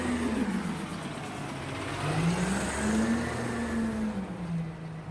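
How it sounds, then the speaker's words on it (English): A dump truck drives by on a city street, its engine droning steadily with a pitch that dips and rises as it passes close and loud, with no voices heard. "Oh, look, a dump truck, you guys."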